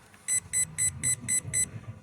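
An electronic speed controller in a Losi 1970 Chevelle 1/16 no-prep drag car gives six sharp, evenly spaced high beeps while its program modes are set, loud and close over a low background hum.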